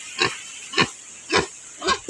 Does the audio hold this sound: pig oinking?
yes